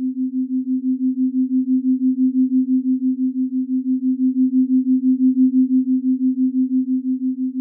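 A steady, pure low sine tone for a theta binaural beat meditation hums continuously with a slow, gentle swelling pulse in loudness, smooth and unbroken, with no voice or other sounds.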